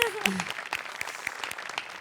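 Audience applause at a Marathi stage honour for a theatre director, steady moderate clapping with sharp individual claps standing out over a brief line of speech at the start.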